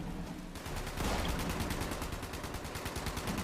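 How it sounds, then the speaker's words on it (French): Gunfire in the video game Fallout 76, a rapid, sustained burst of automatic shots that starts after a brief pause and continues steadily to the end. "Ça tire à l'entrée."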